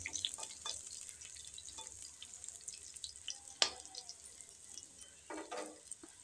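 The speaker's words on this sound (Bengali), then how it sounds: "রসুনটা ভাজা ভাজা হয়ে গেছে।" Garlic frying in oil in a wok, a faint low sizzle carrying on underneath a series of scattered clicks and short scraping stirs, including one sharper knock.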